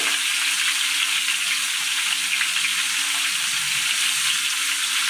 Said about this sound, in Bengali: টমেটো দিয়ে দিলাম। পেঁয়াজগুলো দিয়ে দেবো।